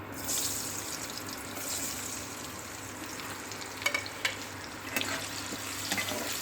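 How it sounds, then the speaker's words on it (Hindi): Salted potatoes fry in hot oil in a pan, giving a steady, moderately quiet sizzle with a few sharper pops and clicks from stirring toward the end, no voices. "इसको इसमें तेल में पकाना है, इसके आलू को।"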